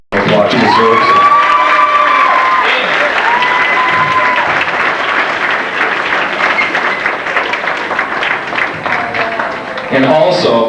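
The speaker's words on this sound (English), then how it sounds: "So please give my wife a big round of applause." A big room of people at a 1993 high school marching band mock awards gathering claps loudly for a man's wife, with cheers and whoops mixed in and voices calling over the sustained applause.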